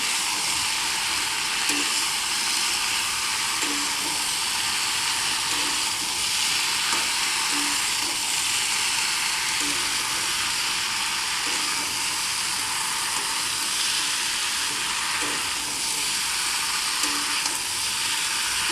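Ground cumin, coriander powder and chili powder fry and get stirred for a soybean vegetable curry, with a steady loud sizzle and hiss throughout and occasional soft scrapes of a spatula.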